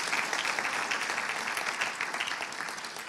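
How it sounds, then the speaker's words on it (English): A steady wash of audience applause greets the chefs at a junior chef of the year competition, dense and even throughout, moderately loud with no talk over it. "I think they deserve a round of applause for all of their work and all of their participation."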